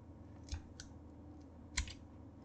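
Scissors snip through braided cable sleeving for a D5 pump, a few quiet, crisp cuts spaced apart over a low steady background hum.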